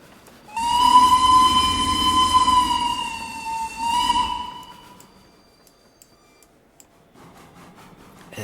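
A steam train in a Roblox game rumbles and sounds a long, loud horn for several seconds, ringing with heavy echo in a tunnel, then fades before faint rumbling returns.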